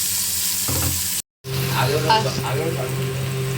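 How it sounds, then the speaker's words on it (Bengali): Potatoes frying in oil in a pan, a steady close sizzle with a brief cut in the middle, followed by scraping stirs and a louder crackle, no talking. "এই যে এখানে আমি এখন লাল লাল করে আলু ভাজছি"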